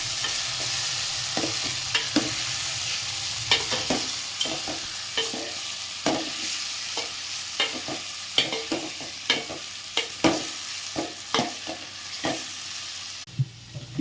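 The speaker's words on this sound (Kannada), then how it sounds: "ಫ್ರೈ ಮಾಡ್ಕೊಳ್ಳೋಣ." Spices and mace frying in hot oil for a chicken curry, with a spoon scraping and stirring the pan in steady repeated strokes over a constant close sizzle; no talking.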